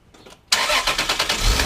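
A Toyota Supra or Lexus IS engine fitted with new motor mounts cranks after a short quiet pause, then catches and settles into a loud, steady idle with a slightly pulsing rumble close by.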